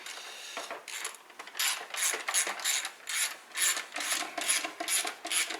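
A hand ratchet tightens bolts on the intake of a VW Touareg TDI, a run of close, crisp clicking strokes in a steady back-and-forth rhythm.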